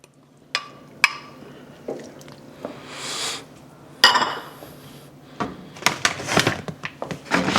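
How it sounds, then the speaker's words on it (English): Cooked sausage going into a pot of soup with spinach, a series of metal clanks and scrapes from a spoon on the pot, with soft wet squishes and a brief rustle between them, close and intermittent. "now we're going to add in the cooked sausage"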